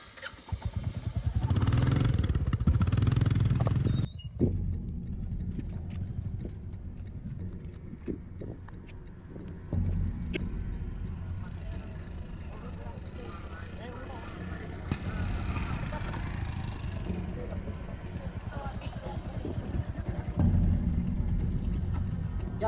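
A motorcycle turned around and ridden off on a village road, engine rumbling and revving under voices of people talking nearby, with clattering and shifting engine note through the stretch.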